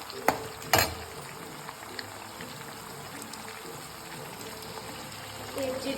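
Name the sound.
onions frying in oil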